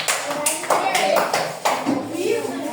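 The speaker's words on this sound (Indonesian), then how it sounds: "Ya, kita tepuk tangan kepada kelompok." A classroom group claps together in short rhythmic bursts, loud and close, with children's voices calling out over it.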